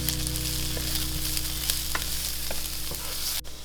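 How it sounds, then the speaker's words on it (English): Minced garlic sizzles and fries steadily in a hot pan with pasta water nearby, a close, continuous crackle with faint stirring clicks and no voices. "Now we're gonna add in our garlic. Saute this for just about 30 seconds."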